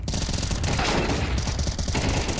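Dense, continuous gunfire from a Counter-Strike esports match between M80 and G2 at PGL Astana, with rapid overlapping shots and loud bursts filling the whole moment, busy game sounds underneath.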